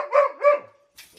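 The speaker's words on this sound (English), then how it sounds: "This is my dog Crow." Two quick, close barks from a dog named Crow, the second following the first almost immediately, with a short soft noise afterward and no talking.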